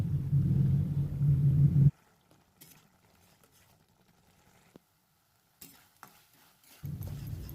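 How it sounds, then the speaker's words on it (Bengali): Spice paste with turmeric and salt sautéing in a pan: a loud, close sizzle and stirring at the start and end, with quieter scrapes and faint clinks in between and no voices. "এবার হলুদ, লবণ, পরিমাণ মতন লবণ দিয়ে আমি মশলাটাকে ভালো করে কষিয়ে নেব।"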